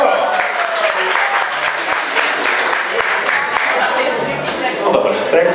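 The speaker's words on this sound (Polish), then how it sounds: "Liczył na oklaski" A concert audience applauds with dense, steady clapping that fills the room at close range, continuing without a break.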